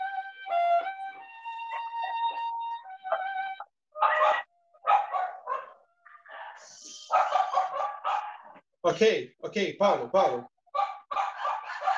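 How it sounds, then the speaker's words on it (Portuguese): Several dogs bark nearby in loud, clustered bursts of yapping and barking that repeat through most of the stretch, after a sustained violin tone at the start during a violin lesson; a voice speaks briefly. "Tem uns cachorros latindo aqui"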